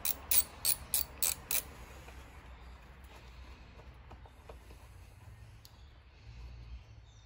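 A ratchet clicks in a few quick bursts at the start while undoing the bolt that holds the air box on a Mercedes ML W164, close and crisp, followed by quiet handling noises.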